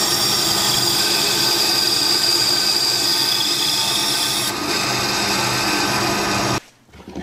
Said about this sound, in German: ich säge jetzt mal extra ungenau